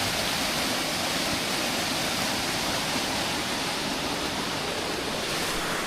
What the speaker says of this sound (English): This is a small river.